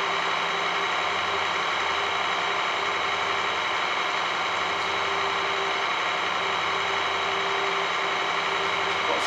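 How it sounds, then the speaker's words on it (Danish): Tractor engine in Farming Simulator 19, a continuous steady mechanical drone that runs evenly throughout at a constant level with no breaks and no talk. "Jo, det er min stærke traktor."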